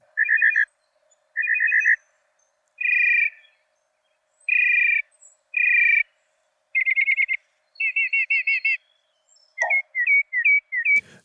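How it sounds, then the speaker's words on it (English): A mockingbird sings a series of varied phrases, each a short burst of repeated whistled or trilled notes separated by brief pauses, clear and close with no talking. "there's something incessantly annoying about the mockingbirds"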